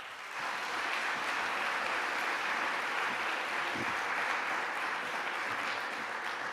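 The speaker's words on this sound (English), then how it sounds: "let's give Chancellor Andrew D. Martin a big round of applause" Steady, even applause from a large audience welcoming Chancellor Andrew D. Martin at a Parent & Family Weekend address, starting after a brief pause and holding at an unbroken wash of clapping for about six seconds.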